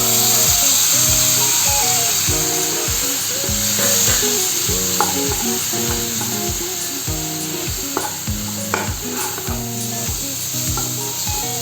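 A spice paste sizzles and fries loudly in a pan, a constant bright hiss with occasional stirring scrapes, set beneath tonal background music.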